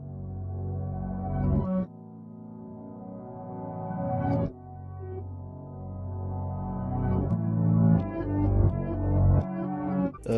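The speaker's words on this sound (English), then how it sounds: "So I took the piano, I pitched it down, and I reversed it and make it sound like this." A piano sample pitched down and played in reverse, giving dense, low sustained tones that swell and then cut off sharply several times across the passage, with no voices.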